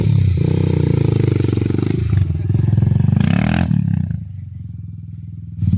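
A Loncin 150 dirt bike engine on a jump course, revving loud and close with a steady throaty drone that dips briefly and then settles into a lower idle before rising again.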